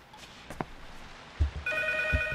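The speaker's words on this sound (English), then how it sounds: "Alright, so now the phone is ringing." A telephone rings in the horror game P.T., its steady electronic bell tones starting partway through and continuing to the end over a quiet, low ambient background with a couple of soft thuds.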